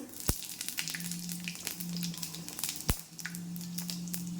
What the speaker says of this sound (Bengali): তেলের মধ্যে দিয়ে দেবো পাঁচফোড়ন